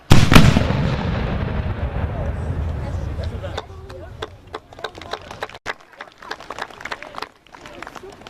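Musket volleys ring out at a historical reenactment of the 1777 surrender at Schuylerville, with a loud opening blast followed by a long stretch of scattered, sharp gunshot cracks and pops, some near and some farther off.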